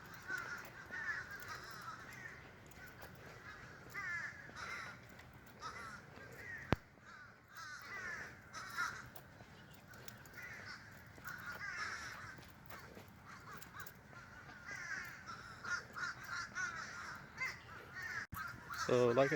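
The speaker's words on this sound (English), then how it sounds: "it's a lot of birds." Crows cawing by a lake, repeated harsh calls spread through a steady outdoor background, with a couple of sharp knocks and some rustling near the end.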